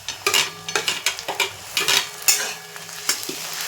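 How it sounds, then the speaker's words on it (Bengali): Chopped onions and onion paste sizzle in a pan for chicken kosha, with repeated scraping stir strokes from a spatula in a loose rhythm over a steady frying hiss, close and clear. "এবার দিয়ে দেবো পেঁয়াজ বাটাও দিয়ে দেবো"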